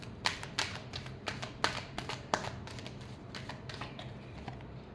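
Tarot cards being shuffled by hand: a quick series of soft, crisp riffling taps and flicks, close and fairly quiet, with no talking.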